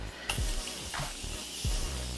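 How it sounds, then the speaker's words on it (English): Bursts of Morphe makeup setting spray misting from a bottle, two or three short sharp hissing puffs close by, with quiet gaps between them. "So I'm gonna go in with my Morphe setting spray first."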